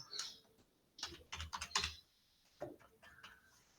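Someone types a password on a computer keyboard, giving a few quick bursts of soft, close key clicks separated by short pauses, with no voices.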